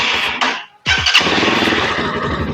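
A GPR250 V2 motorcycle engine cranks with a brief burst, falls silent for a moment, then catches and settles into a loud, close, steady idle rumble.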